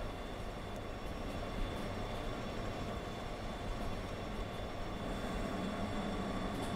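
A CC201-style diesel locomotive in a train simulator game hauls a nine-car passenger train uphill, giving a steady, dense rumble of engine and rolling stock that stays loud and even throughout.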